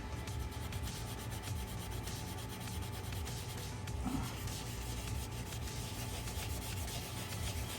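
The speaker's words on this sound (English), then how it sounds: "So you're gonna hit this with some steel wool." Steel wool rubbing against an engine part of a 1974 Chevrolet Nova, a faint, steady scratchy scrubbing that continues throughout with no talk.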